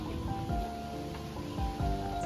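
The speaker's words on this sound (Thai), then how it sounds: "ฝนก็ตก" Rain falls during an outing at Shanhaiguan's Old Dragon Head by the sea in Qinhuangdao, China, a steady hiss of drops under a low droning background with a few soft thuds.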